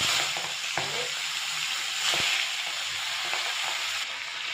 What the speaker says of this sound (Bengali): আর মাছের মাথাটা ভাজছি